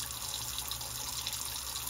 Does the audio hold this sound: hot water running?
yes